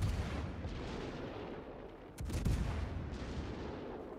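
Warship cruiser firing high-explosive shell salvos in a naval combat game, a dense continuous rumble of booming gunfire with a sharper burst of shots midway, loud and sustained without talk.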